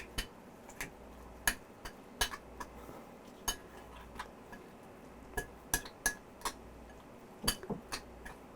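Deviled egg filling for three eggs being mixed in a bowl, heard as sharp, irregular clinks and taps of a utensil against the bowl, spaced every half second or so over a quiet background, with no talking.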